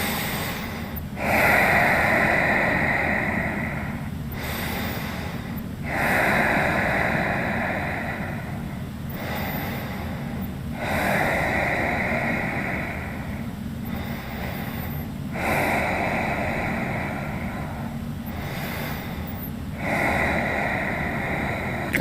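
Deep, slow yoga breaths come in a steady cycle of five long breathy inhales and exhales, close and loud, with no talking.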